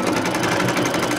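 Embroidery machine stitching cutwork embroidery straight onto terry cloth, a fast, steady mechanical whirr running continuously and close throughout the short stretch with no voices.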